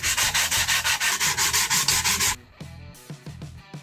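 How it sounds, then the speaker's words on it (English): 220 grit sandpaper rubbed up and down along a metal pipe for a homemade barbell, a loud steady run of rhythmic rasping strokes that gives way to quieter, slower scrapes near the end. "we're gonna use our 220 grit sandpaper to smooth out these two areas. And we're gonna do this by going up and down on the pipe"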